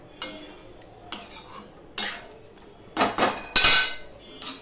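Chalkumro leaf curry is stirred in a pan with a metal spoon, giving spaced scraping and clanking strokes that grow louder toward the end, close up, with no speech.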